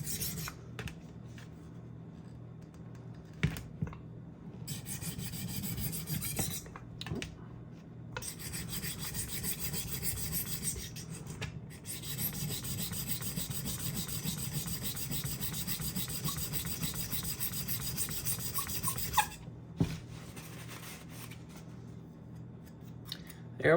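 A knife edge being sharpened on a Tumbler diamond rolling sharpener gives a steady, close rasping scrape in long sustained strokes, with brief pauses and small clicks between passes.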